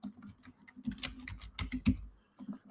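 Keys clatter on a computer keyboard as a local address is entered, with quick irregular bursts of close, fairly quiet clicks and no talking.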